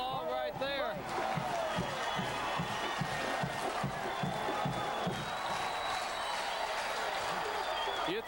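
A college football stadium crowd at a 1996 Georgia Southern at The Citadel game cheers and applauds loudly and continuously after a 94-yard kickoff return, with a commentator talking over the roar.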